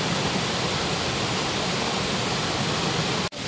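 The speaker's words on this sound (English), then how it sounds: "They're coming from every direction, these waterfalls." Several waterfalls of a river cascade on all sides, a loud, steady broadband roar that holds constant throughout with a brief dropout near the end.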